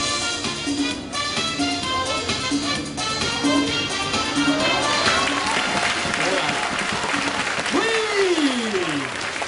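Audience applause fills a sea lion show at an amusement park, steady clapping and crowd noise throughout, with a voice and a rising-falling whistle-like call near the end.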